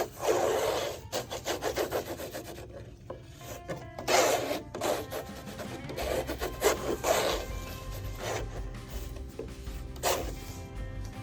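A brush strokes lead white oil ground across linen in repeated rasping sweeps, each stroke a dry scratchy rub, close and fairly loud, with short pauses between passes and no voices.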